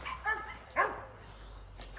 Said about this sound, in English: You know, I wish I could shut the dogs up,